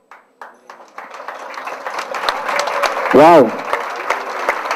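Applause from an audience at a Spanish-language business opportunity meeting builds from scattered claps into a fuller, sustained clapping, with a loud voice exclaiming over it and a brief tonal ping in the middle.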